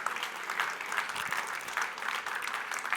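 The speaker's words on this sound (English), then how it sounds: "How about a round of applause again for Brian?" Steady applause from a photography conference audience for a presenter, a dense wash of many hands clapping at moderate volume throughout, with no voice over it.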